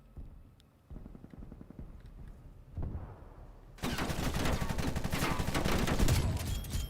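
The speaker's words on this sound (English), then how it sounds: "I have to use my shotgun." Shotgun fire in a video game during a costume-party blueprint loadout: after a few quieter thuds, loud, dense blasts of gunfire take over from about four seconds on and continue without pause.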